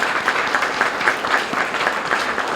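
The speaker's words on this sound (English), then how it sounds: "If we can give them a quick round of applause" A room at a St. Paul police awards ceremony gives two high school students a brief round of applause, with rhythmic, moderately close hand claps throughout.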